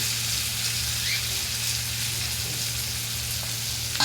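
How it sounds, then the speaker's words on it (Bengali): Steady, even sizzling of onions frying in oil, a continuous soft crackle with a low hum underneath. "দেখো পেঁয়াজটা ভাজা হয়ে গেছে"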